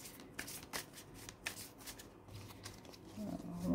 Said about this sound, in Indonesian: Mungkin saya kocok dulu sebentar.